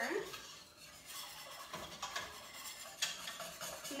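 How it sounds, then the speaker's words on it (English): A whisk stirs white sauce in a solid-bottomed pan for chicken pot pie, making soft repeated scraping and clinking strokes against the metal, quiet and close, with faint sizzling beneath. "the next step is to use your handy dandy whisk and whisk it all together"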